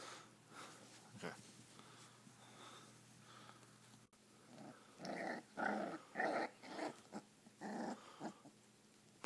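Five-week-old sheepdog poodle puppies play fighting, with close, bursty growls, snorts and sniffs, sparse at first and then coming in rapid clusters in the second half.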